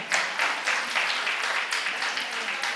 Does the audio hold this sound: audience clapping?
yes